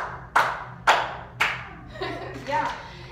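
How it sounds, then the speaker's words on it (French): A few sharp, separate claps ring out, followed by a softer patter of clapping with middle school students' voices mixed in, in a French class. "Applaudissez-vous."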